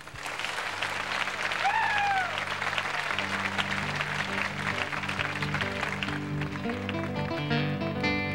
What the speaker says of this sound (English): Let's hear it for Chet.